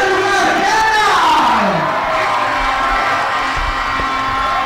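A baseball crowd at a Mexican league game, Algodoneros de Delicias against Manzaneros de Cuauhtémoc, roars and cheers loudly and continuously, with shouts and whoops rising above the din and an announcer's voice mixed in.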